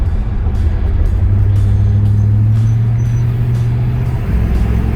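A 1977 Buick Skylark Sport Coupe with a V8 engine, driving loud and close, its steady engine drone climbing under acceleration with a kickdown, then dropping as the automatic transmission shifts near the end.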